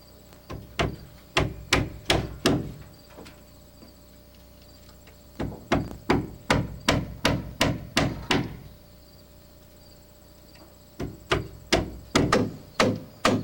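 Hammer blows drive nails into wooden roof trusses during house framing, sharp repeated strikes in three quick bursts of about eight to ten hits each, separated by short pauses, loud and close.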